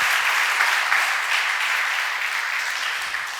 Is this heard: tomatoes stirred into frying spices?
no